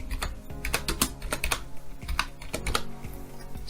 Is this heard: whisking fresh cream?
no